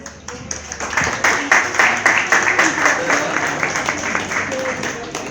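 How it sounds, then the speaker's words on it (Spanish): Audience applause for a speaker introduced at a MORENA campaign-house event, a moderate crowd clapping steadily throughout with some louder claps up close. "Fuertes los aplausos, por favor."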